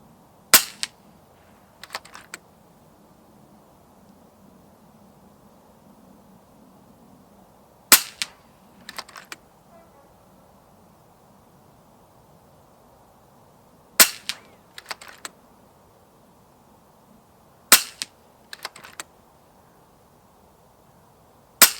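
Shots from an FX Impact M4 Extended FAC air rifle fitted with a moderator, outdoors: sharp, snappy cracks come in small clusters of two or three, each cluster separated by several seconds of quiet background.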